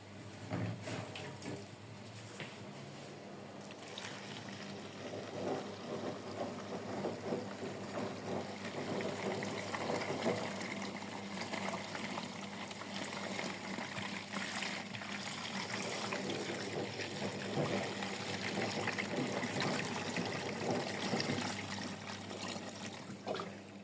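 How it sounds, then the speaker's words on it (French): Hot water pours and trickles steadily into a container of laundry detergent, a soft continuous running sound heard close, fairly faint, with no voices. "Je vais mettre de l'eau chaude."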